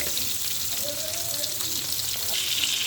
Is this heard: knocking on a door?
no